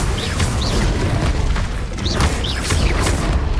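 An Incendio fire spell erupts in Hogwarts Legacy, a dense, continuous roaring blast with booming low rumble and crackling bursts that sustain loudly throughout.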